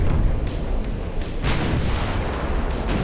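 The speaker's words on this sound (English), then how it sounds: "That's your main artillery." Main battery guns of a dreadnought battleship firing in the naval game Ultimate Admiral: Dreadnoughts, heard as low, rumbling booms with a few sharp reports, loud and sustained with no talking.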